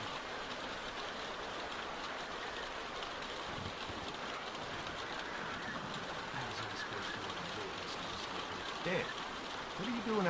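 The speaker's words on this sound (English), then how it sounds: "Keep sitting out in the rain like a damn deer." Steady rain falls in The Walking Dead video game, a continuous even hiss running the whole stretch, with voices coming in faintly near the end.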